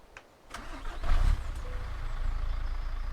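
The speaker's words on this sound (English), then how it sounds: "Let's fire her up outside and see what she sounds like there." A Mercedes Actros MP1 truck engine in Euro Truck Simulator 2 cranks and turns over outdoors, then catches and settles into a steady rumbling idle, close and fairly loud.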